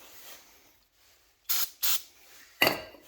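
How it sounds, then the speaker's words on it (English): Disc brake cleaner sprays onto a motorcycle brake disc on a 1987 Harley FXR, in three short close hissing bursts after a quiet start, the last one sharper and louder. "Let's get this disc cleaner."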